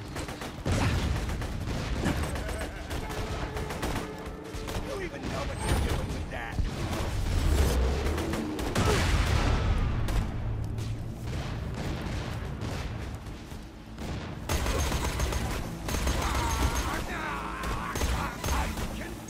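Gunfire in Borderlands 2 crackles in dense, continuous volleys at moderate loudness across the whole stretch, with booming hits and mechanical clatter mixed in and faint speech underneath.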